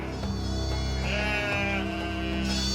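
Lambs bleat in a quavering, wavering cry, one long drawn-out call rising and falling, close and loud over a faint low background.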